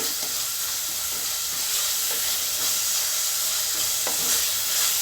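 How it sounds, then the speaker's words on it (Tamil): Tomatoes sauté in a hot pan for kuska biryani, a loud, steady sizzle and hiss with occasional soft stirring taps throughout. No one speaks. "இது கொஞ்சம் நேரம் நல்லா வதங்கட்டும் நம்மளுக்கு தக்காளி."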